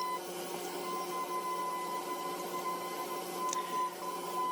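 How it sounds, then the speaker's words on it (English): A small Dremel carbide cutter carves into a hard wood tree knot, giving a steady, close, high rotary whine with a gritty cutting hiss that holds for several seconds without a break. "I'm going to get my little carbide cutter, okay, from Dremel, and this is a smaller one"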